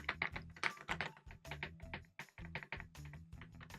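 Fast, uneven typing on an Attack Shark X98 Pro mechanical keyboard, close and crisp, with dense clacks and a brief pause midway, no voices.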